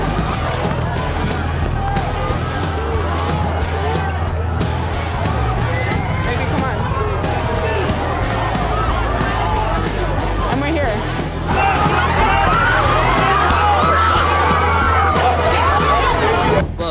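Aggressive crowd of protesters surrounding a car, a dense continuous roar of shouting and babble with scattered thumps and footsteps, loud and close, growing a bit louder partway through.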